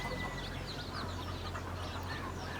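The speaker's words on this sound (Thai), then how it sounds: "นี่ก็จะเป็นไก่ของผมเหมือนกันครับ" Farm-raised chickens clucking softly in a pen, faint and somewhat distant over a steady background hum, with no talking.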